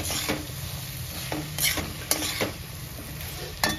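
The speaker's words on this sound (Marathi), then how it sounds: "तर आता आपण फ्लावर टाकायचं याच्यामध्ये. हा धुतलेला फ्लावर आहे ना तो टाकायचा सगळा. मिक्स करायचं मस्त." Washed cauliflower stirred in a buttery pan for a quick tiffin vegetable dish, sizzling steadily up close while a spoon scrapes and clacks against the pan in irregular strokes, with no talking.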